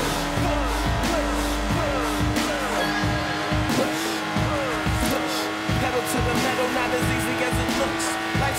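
A Lotus Exige drives hard in Forza Horizon 4 while its engine drones and shifts pitch and its tires squeal in turns. A narrator speaks over the driving.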